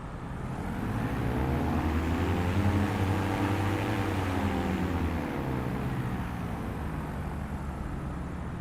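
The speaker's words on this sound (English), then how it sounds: "I love the sound of the engines on this plane" Turboprop aircraft engines in Microsoft Flight Simulator 2024 drone steadily and loudly throughout, a dense, even roar with a low humming tone that swells slightly and then holds.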